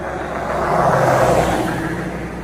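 A car passes along a road on a ride to Ternate, a broad rushing engine and tyre noise swelling to its nearest point in the middle and easing slightly toward the end, with no voices.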